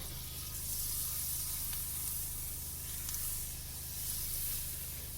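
Butter sizzles steadily in a frying pan with browned food, a continuous broadband hiss with faint crackles and a low hum beneath, no voices.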